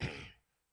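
A pastor coughs and clears his throat during an early-morning church sermon. It comes as a single close, rough burst that fades within half a second into quiet.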